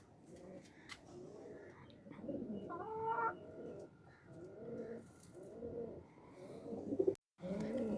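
Pigeons coo in low, repeated murmuring phrases, with a brief higher bird call in between and light background noise.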